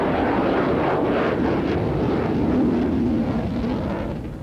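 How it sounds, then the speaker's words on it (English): Aircraft flying over Duxford airfield, home of the Imperial War Museum, a broad loud engine roar that swells slightly and then begins to fade at the end. "day is punctuated by the sight and sound of aircraft"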